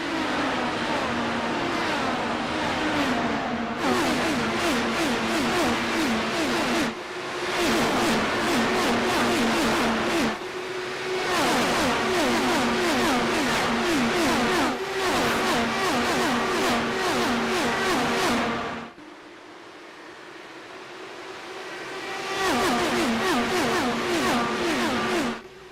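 IndyCar race cars roar off the start at Nashville in a video game, a dense pack of engines droning loud and steady with repeated surging gear-change pulses, briefly dropping away before the full-field howl returns.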